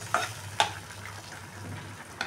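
Turmeric, coriander-cumin and garam masala powders sauté in oil for a fish-head lentil dish, a low steady sizzle under three sharp scraping knocks from a spatula against the pan.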